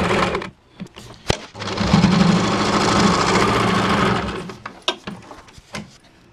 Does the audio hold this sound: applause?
no